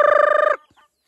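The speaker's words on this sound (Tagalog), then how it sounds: "Daming manok." A single short, rapid, pulsing chicken call close by, a hen's trilling cluck, followed by silence.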